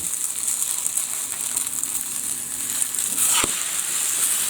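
Egg frying in a pan for a bagel breakfast, a steady soft sizzle throughout with a single sharp clink or tap near the end, no talking.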